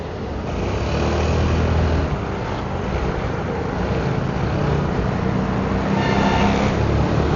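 Road traffic heard from a Suzuki Burgman Street 125 scooter on a night ride in Los Baños, Laguna, a steady, close roar of engines and wind that stays loud throughout.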